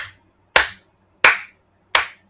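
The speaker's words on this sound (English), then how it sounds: "Everybody give him a clap." A few people clap in the middle of a casual boxing talk show, three sharp, close claps spaced about two-thirds of a second apart, with quiet gaps between them and no talk.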